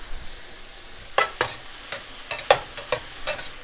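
Mushrooms sautéing in a pan, with a steady low sizzle broken by sharp, irregular clacks and scrapes of a utensil stirring them, close by and without talking.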